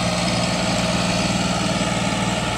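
Massey Ferguson 9500 turbocharged tractor engine running steadily out in a field, a loud, close diesel drone with an even low throb and no voices.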